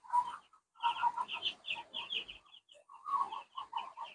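Young broiler chickens, about ten days old, cluck and peep continuously in a series of short, close, bright calls with brief pauses, with no talking over them.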